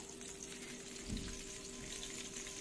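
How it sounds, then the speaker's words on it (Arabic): Eggs fry in a pan with a steady, faint sizzle and a soft bump of movement partway through, no talking. "هنحمر البيض كمان"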